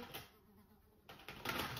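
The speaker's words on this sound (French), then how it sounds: "il y a une grosse mouche, je sais pas si vous l'entendez" A large fly buzzes indoors, its faint, thin drone fading in and out as it moves, dropping away briefly in the middle before returning louder at the end.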